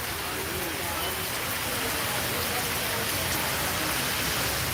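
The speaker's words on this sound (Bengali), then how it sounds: "প্রচুর বৃষ্টি হচ্ছে" Heavy rain pouring steadily in Sylhet, a dense, continuous hiss of downpour on surfaces that stays loud and even throughout, with no voices over it.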